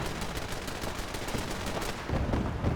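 Heavy automatic gunfire in a Fallout 4 settlement battle rattles in a dense, continuous stream, with fast overlapping bursts and a deeper, louder barrage building toward the end.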